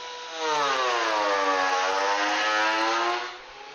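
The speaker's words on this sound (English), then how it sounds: "it's actually got a spinning drum in the head unit with 3 extremely sharp stainless steel knives on it, and spinning about," A machine whose head spins a drum holding three stainless steel knives at very high speed runs up to a steady, loud whine, holds it for a few seconds, then spins down.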